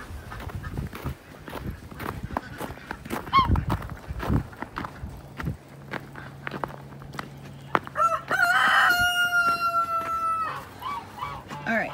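Backyard chickens cluck and squawk close by, and a rooster lets out a loud drawn-out crow partway through, all over scattered background noise.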